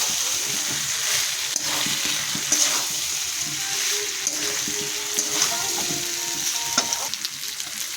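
Fried potatoes sizzling in a pan after spice water is poured in, a loud, steady frying hiss throughout with occasional stirring clicks and bubbling, close up.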